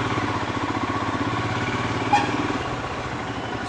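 A Royal Enfield Himalayan motorcycle engine runs steadily at low speed in traffic, a close, even mechanical drone with a rapid regular pulse and a brief clatter midway.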